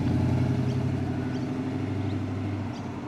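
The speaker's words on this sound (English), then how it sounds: "Nice burble of the exhaust," V8 exhaust of a Sandman edition car at a car show, a steady low rumbling burble that runs continuously at moderate distance with no talking.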